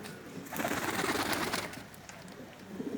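Pigeons cooing in a loft, including a blue pigeon, with soft overlapping throaty coos and flutters that swell and fade, fairly close and continuous.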